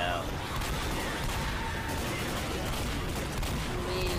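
Rapid bursts of gunfire from the zombie shooter game Left 4 Dead, in the Dead Air crane stage, a steady dense barrage of shots running the whole time under game noise.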